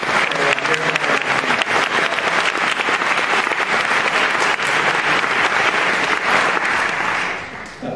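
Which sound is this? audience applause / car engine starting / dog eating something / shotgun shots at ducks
audience applause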